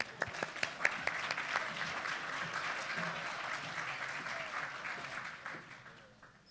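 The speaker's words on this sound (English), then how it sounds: "we're doing another clap" An audience at a West Virginia entrepreneurship event claps as participants come to the stage, sharp close claps at first swelling into broad steady applause with faint crowd murmur, then tapering off.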